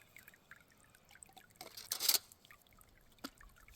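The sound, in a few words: water trickling into a sprinkler head hole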